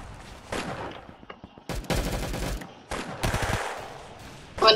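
Shotgun fire in the Roblox Arsenal video game: loud blasts come in short clustered bursts, separated by brief gaps, with another burst at the end.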